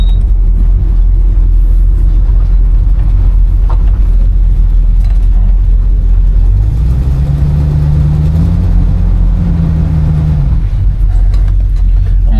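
A 1971 Oldsmobile Cutlass on a short test drive, heard as a loud, continuous low engine rumble with road noise and a rising drone partway through, no voices.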